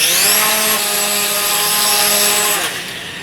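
A Dromida Vista RC quadcopter fitted with an upgraded micro motor runs on a test, giving a loud, steady high-pitched whine with rising harmonic tones that hold, then wind down near the end.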